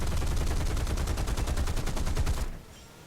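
Aircraft guns fire in War Thunder, a rapid rattling burst of machine-gun rounds lasting over two seconds before cutting off abruptly into quiet engine hum.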